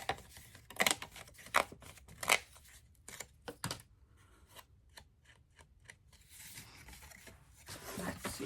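Scissors snipping paper or card during crafting of a Christmas folio, a close series of sharp irregular cuts that thin out into faint rustling toward the end.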